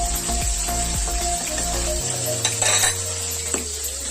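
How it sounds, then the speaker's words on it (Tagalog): Water poured into squash cooking in a pan sets off a loud, bubbling sizzle close by, with a low hum fading out midway and brief utensil clinks toward the end. "Maglalagay po tayo ng kaunting tubig para palambutin ang ating kalabasa mga Lodi."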